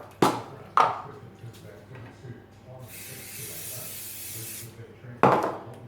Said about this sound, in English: So what I'm going to do is give this a quick spray.